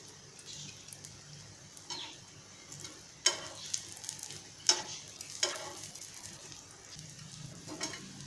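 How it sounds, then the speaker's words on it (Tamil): Eggplant slices fry on an iron tawa with a quiet hiss and occasional sharp ticks and spatters, and no talking. "இந்த பக்கமும் ஒரு 2 நிமிஷம் நல்லா ஃப்ரை பண்ண விட்டுறலாம்."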